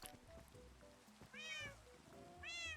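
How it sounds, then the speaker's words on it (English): Cats in the Minecraft video game meow twice in short, high, bright calls over quiet rain pattering in the game, with soft game sounds between them. "let's grab these cats, pull them over here"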